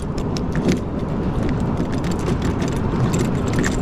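Metal keys jangle and scrape in a car door lock, a steady run of small clicks and rattles close to the microphone, with no voices.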